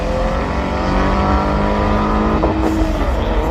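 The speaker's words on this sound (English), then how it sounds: "This backfiring exhaust." A race car with a backfiring exhaust revs hard nearby, giving a loud, continuous engine drone with rising tones and a sharp crackle partway through.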